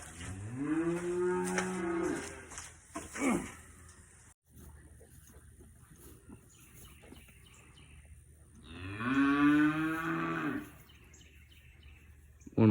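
A dairy cow on a small farm, waiting for hay at milking time, lets out two long, close, drawn-out moos several seconds apart, with quiet farmyard background and no talking.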